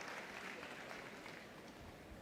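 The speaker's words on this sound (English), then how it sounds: "Another big cheer there for the little Norfolk." Crowd cheering and applause for a Norfolk Terrier in the terrier group judging at Crufts, a steady broad wash of clapping and cheers from a large indoor audience, fairly faint and continuous throughout.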